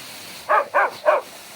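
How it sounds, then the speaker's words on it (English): A dog barks three times at a waterfall on a trail in Dahlonega, Georgia, short sharp barks evenly spaced and fairly close, over a steady wash of falling water. "he's not too feeble to bark at the water in the falls"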